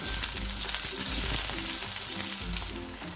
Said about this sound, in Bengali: রসুন থেকে সুন্দর গন্ধ এলে দিয়ে দেবো পেঁয়াজ